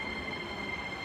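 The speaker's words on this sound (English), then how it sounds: "but that's the train." A train in Japan rumbles along steadily, a brief continuous roar with a high whine, heard from close by with no voices.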